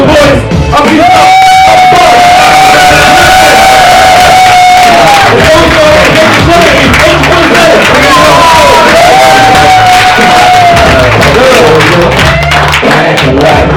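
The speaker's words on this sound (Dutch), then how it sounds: "Maak een applaus voor de boys! Applaus!" A crowd at an outdoor street music festival cheers and shouts, loud and continuous, beneath a sustained tonal voice or music line and a booming low rumble.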